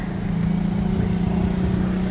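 A car fitted with aftermarket headers idles at a gas station, its engine and exhaust a loud, steady, low droning rumble close by, with no talk.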